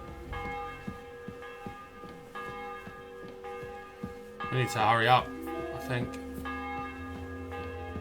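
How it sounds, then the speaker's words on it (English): A church bell in the video game Kingdom Come Deliverance 2 tolls in slow, evenly spaced strokes with long ringing decay, moderately loud, while a voice briefly speaks over the middle. "The bell's ringing for Hans the 5th time."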